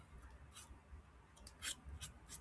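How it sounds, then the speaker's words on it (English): Old dressmaking scissors snipping paper or fabric while making a craft poinsettia, a few quiet separate crisp snips spaced irregularly against near silence. "you probably do need fairly sharp scissors"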